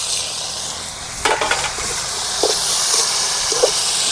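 Bottle gourd and tomato curry frying in a pan, a steady bright sizzle with a few soft scraping stirs of the spoon, close and alone without talking.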